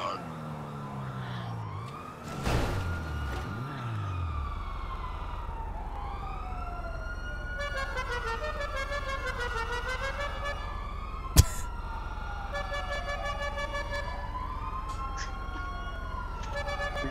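Several police sirens wail and sweep up and down at once in GTA San Andreas, overlapping continuously over a low engine rumble, with a sharp bang partway through.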